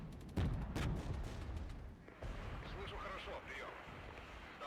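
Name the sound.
artillery fire in the video game Regiments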